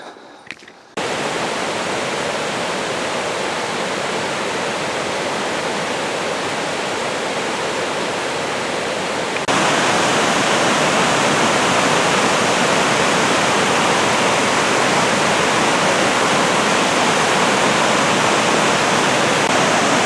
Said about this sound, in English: the creeks that flow out of them are really going to be running